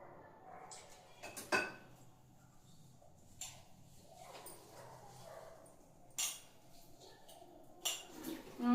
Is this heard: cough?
no